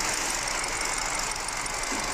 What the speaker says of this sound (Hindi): इंजन बहुत ज़्यादा वाइब्रेशन कर रहा